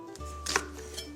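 A knife dices an onion into cubes on a cutting board, with a couple of sharp chopping knocks over a quiet kitchen background.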